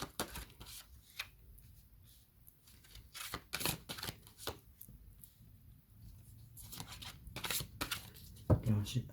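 Tarot cards are shuffled and drawn for an astrological reading, heard as close, irregular bursts of riffling, flicking and soft snaps between quieter gaps.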